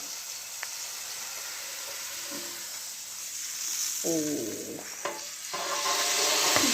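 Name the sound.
fish frying in a little oil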